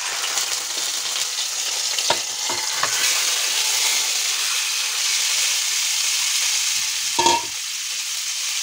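Fish fritters (machha bara) sizzle steadily in hot oil, a loud continuous frying hiss with a few sharper crackles and pops, heard alone without talk.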